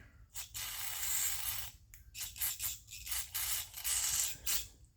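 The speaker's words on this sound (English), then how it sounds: "We're going to spray it out anyway." Repeated hissing bursts of aerosol cleaner sprayed into an Echo 650EVL chainsaw carburetor, some short and some longer, close up with brief pauses between them and a low hum underneath.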